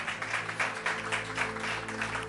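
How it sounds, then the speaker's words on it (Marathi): A church congregation gives hearty applause in praise of the Lord during a Marathi sermon. The clapping is dense and continuous, with a fairly loud, even roar of many hands throughout. "जरा जोरदार टाळ्या प्रभूच्या गौरवासाठी"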